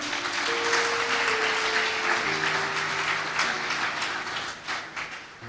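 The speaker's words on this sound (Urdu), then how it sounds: "زوردار تالیاں" Loud, sustained applause from a church congregation fills the space, with a sung or held tone running beneath it; the clapping fades slightly near the end.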